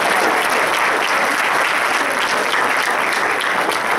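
An audience at a white coat ceremony gives a sustained round of applause, dense and even clapping that continues unbroken from start to end.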